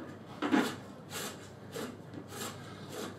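A spigot is tightened down on a plastic bucket water filter, giving a few close, separate rubbing and scraping turns, each short and gritty.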